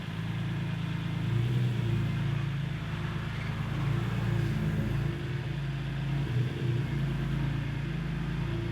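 A BMW E36 with a swapped-in S54 engine driving, a steady low engine drone with rumble heard from inside, loud and continuous with slight shifts in pitch and no talking.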